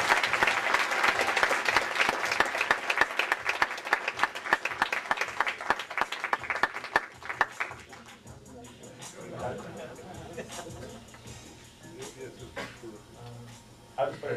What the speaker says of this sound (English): applause for a new friend, Louis Lautman.